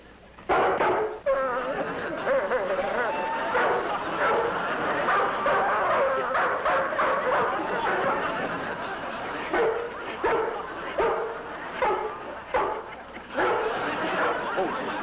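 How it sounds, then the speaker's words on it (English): A big dog barks in a yard in the 1953 film El Toro. The barking is loud, close and repeated in uneven bursts, with some yips and whimpers, and faint voices can be heard in between. "There's a big dog running loose in the yard"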